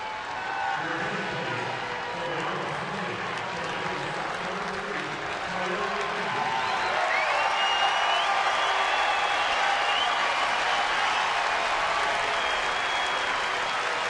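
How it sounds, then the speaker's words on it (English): Crowd at Petco Park applauding and cheering for Khalil Greene on his return, a broad steady wash of clapping that swells slightly louder partway through and holds, with a commentator's voice faintly underneath. "A very warm response for Khalil Green in his return here to Petco Park. Hey, he made a lot of people stand up and cheer."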